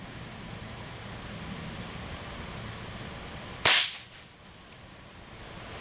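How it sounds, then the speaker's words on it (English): A .22 CCI Mini Mag round fires from a Henry lever-action rifle into Masonite, one sharp loud crack that decays quickly over steady outdoor background hiss. "First a Cci mini mag."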